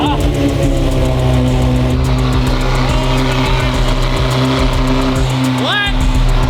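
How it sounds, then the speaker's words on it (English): A Ferrari 599 V12 with straight pipes idles loud and close, its deep rumble holding steady, as people talk over it, and a brief rising rev comes near the end. "we just stepped away for a second so you guys could hear me over the straight pipe 599, but we got the car started"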